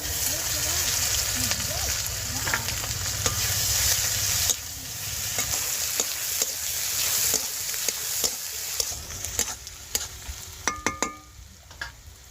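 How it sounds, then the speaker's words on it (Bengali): Chopped onions, sliced green chillies and bay leaves sizzle loudly in hot oil in a pan, with steady frying hiss and stirring scrapes that turn into sharper clinks toward the end. "তিনটে মিডিয়াম সাইজে পেঁয়াজ কুচিয়ে নিয়েছি সেটা আমি দিয়ে দেবো"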